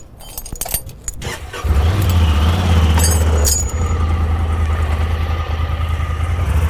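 A car with its rear sway bar removed starts with clicks and a cranking whir, then settles into a loud, steady idle that hums on alone with no talk.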